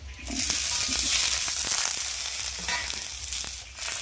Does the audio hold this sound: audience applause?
no